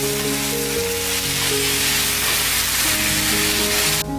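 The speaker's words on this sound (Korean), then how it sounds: "센 불에서 살짝만 섞어주세요." Tomato and scrambled egg stir-fry over high heat with oyster sauce and pepper, making a loud, steady hiss throughout, with a low tonal hum underneath and a brief bright burst near the end.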